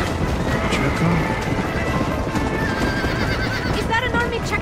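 A horse in the video game Red Dead Redemption neighs with rising whinnies amid galloping hooves, a crash and loud game noise, with voices speaking over it.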